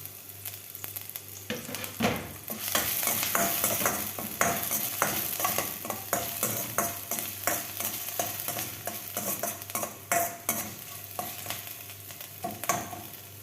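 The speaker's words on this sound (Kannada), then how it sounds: "ಸಣ್ಣ ಉರಿ ಇಟ್ಕೊಂಡು ಈ ಥರ ಫ್ರೈ ಮಾಡ್ಕೊಳ್ಳಿ" Garlic, ginger and coriander stir-fried over a low flame for Gobi Manchurian, giving a steady, close sizzle broken by frequent quick scrapes and clicks of the spatula against the pan.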